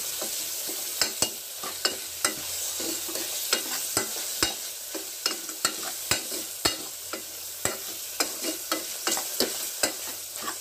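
Curry leaves sautéing in a pan while making drumstick leaf (murunga keerai) soup, with a steady sizzle under repeated sharp spatula scrapes and clicks at a fairly regular pace, close and clear.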